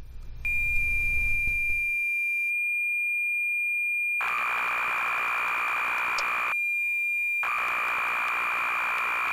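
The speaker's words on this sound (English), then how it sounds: "If we listen to the tape signal generation on an unpatched version of BM," An unpatched B-Em BBC Micro emulator generating its cassette tape signal: a steady pure tone runs for a couple of seconds, then harsh noisy data bursts with a brief gap, sounding like a poorly tuned shortwave radio.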